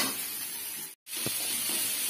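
Mustard, cumin and chilli spice paste frying in a pan for a fish curry gives a steady, moderately loud sizzle and hiss, with a very short dropout partway and one soft stir or tap right after.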